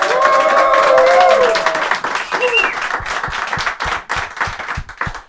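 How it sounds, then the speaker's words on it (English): Studio audience applause at a televised highlight show for the 68th Gordon Bennett gas balloon race, a loud dense burst with cheering tones that thins into scattered individual claps under a host's talk. "Another big round of applause,"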